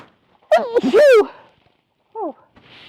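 A person sneezes once loudly and close by, followed by a short tonal vocal sound and a faint noise after.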